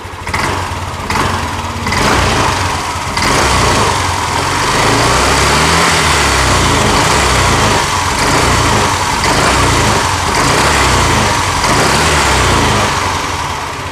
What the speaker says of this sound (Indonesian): Dan sekarang coba saya gas.